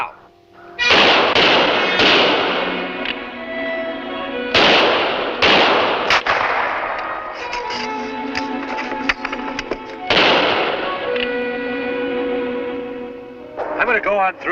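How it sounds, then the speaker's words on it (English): Rifle shots from a frontier-era firearm, several sharp loud reports spaced irregularly over a dense background of music and voices, with people talking throughout. "Keep firing. Here, my rifle's loaded."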